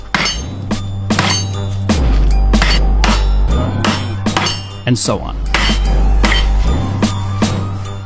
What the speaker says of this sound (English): and hammer it some more.